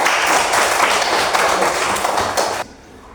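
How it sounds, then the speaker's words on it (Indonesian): A classroom of pupils claps their hands together at the teacher's prompt, a dense, steady patter of many hands that fills the room for over two seconds and then stops abruptly, leaving quiet. "tepuk tangan untuk kita semua"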